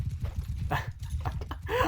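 Hooves of horses galloping in Mount and Blade 2: Bannerlord thud in a quick, irregular rhythm, close and fairly soft, with clattering combat noise mixed in.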